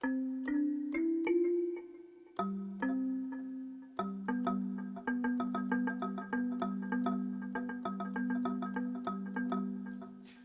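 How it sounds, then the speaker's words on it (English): Plucked sampled kalimba tines ring out in a gentle melody, each note chiming clearly and decaying softly, with no voices. "So I found this rather nice kalimba, which if I play it sounds like this."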